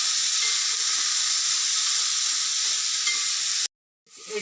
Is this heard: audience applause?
no